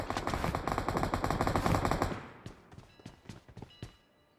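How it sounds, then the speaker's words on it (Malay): Rapid automatic gunfire in PUBG, a dense burst of loud shots for about two seconds, followed by a few scattered single shots and impacts as the firing trails off. "Ya aku tembak tak kena."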